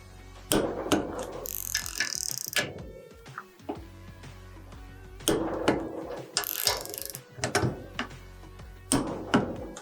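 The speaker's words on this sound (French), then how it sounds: "Une fois le couple atteint, la clé va déclencher. Qu'est-ce que c'est que déclencher? C'est émettre un clic et se casser de 5 degrés." A FACOM torque wrench tightening screws, with a series of sharp mechanical clicks and ratcheting snaps at irregular intervals, close and fairly loud, with no speech.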